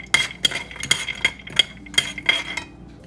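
Cashews being stir fried in hot oil in a pan, heard as a run of sharp metallic clinks and scrapes of a utensil against the pan at an irregular rhythm, close and fairly loud, with no talking.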